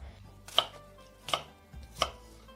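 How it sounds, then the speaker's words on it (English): A knife chops large apples into small pieces on a board, three crisp, evenly spaced thuds, close and clear against a quiet background. "Since the apples are large, cut each quarter into 3 more pieces. Cut into small pieces."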